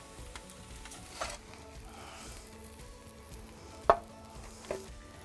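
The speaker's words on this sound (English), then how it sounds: "just let it sizzle for another minute or so" Quiet, steady sizzling of scallops cooking under high heat in a wood-fired oven, with a few soft clicks and knocks scattered throughout.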